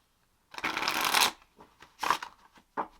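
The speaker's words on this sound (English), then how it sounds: "I like a thin, flexible cardstock, because I do like to shuffle that way" Thin, flexible Marseille-style tarot cards being shuffled by hand: one long riffling burst followed by two shorter flurries, close and clear with no talking.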